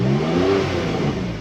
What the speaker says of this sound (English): Let me just rev the engine so you can hear.